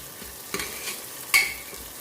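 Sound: onion with ginger and green chili paste frying, stirred

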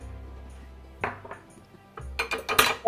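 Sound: stirring chicken Rockefeller sauce in a pan

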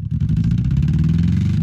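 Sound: 4x4 Chevrolet Blazer doing a rim burnout

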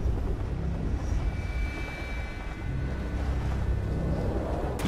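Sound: helicopter in video game Prototype 2

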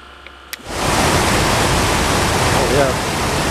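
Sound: condenser fan motor running

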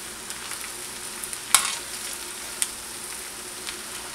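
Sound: stirring cilantro into shrimp rice in a frying pan

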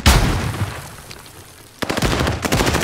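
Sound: stun grenade going off in a video game

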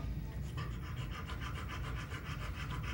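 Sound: dog breathing heavily, panting

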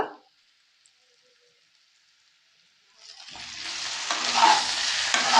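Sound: sautéing spice mixture with chili and ginger paste

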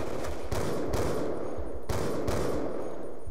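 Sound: sniper gunfire in video game Call of Duty Black Ops 2

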